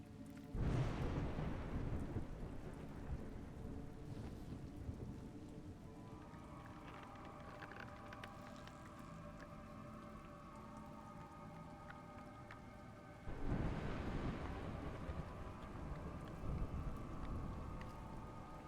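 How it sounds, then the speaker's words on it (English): Video game rain and thunder: heavy rain pours steadily while two loud rolls of thunder rumble, one at the start and another near the end, with a droning tone between. "It's raining."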